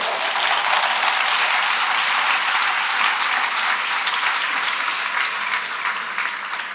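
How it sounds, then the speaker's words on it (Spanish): A church congregation breaks into loud, sustained applause, dense clapping from many people that fades slightly toward the end. "Yo creo que eso sí merecía un fuerte aplauso."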